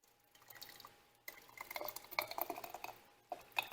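Hot homemade cherry chili sauce is poured slowly from a pot into glass jars, with soft liquid trickling and glugging, a few faint glassy clinks, and short pauses between pours.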